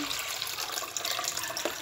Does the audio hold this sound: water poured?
yes